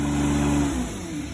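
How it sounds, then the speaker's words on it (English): A truck-mounted carpet cleaner's engine winds down as its throttle is turned back, the steady close drone dropping in pitch and loudness to a lower idle, with no talk heard. "You always turn the throttle down first."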